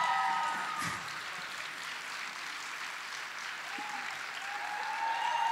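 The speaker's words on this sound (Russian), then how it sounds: "Искупайте в овациях." Sustained applause from an audience honoring a singer on stage at a musical theatre festival, a dense, steady wash of many hands that stays loud throughout and swells slightly at the end.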